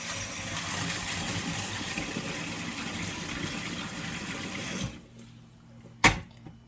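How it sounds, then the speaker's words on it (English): Tap water gushing steadily into a small fish tank for about five seconds, a broad continuous rush that stops abruptly, followed by near quiet and a single sharp knock. "I always run water to fill it up."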